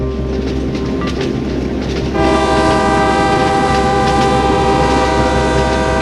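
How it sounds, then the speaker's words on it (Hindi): A model train runs through a 3D scale model of old Pittsburgh, giving a steady loud mechanical hum and rumble; a sustained horn-like tone joins partway and holds to the end. "ओरिजिनल ट्रेन नहीं है ये यहाँ का पिट्सबर्ग का 3D मॉडल बना हुआ है पूरी सिटी का"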